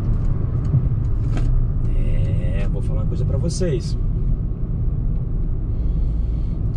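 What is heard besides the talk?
Peugeot 208 Turbo 2024 hatchback accelerating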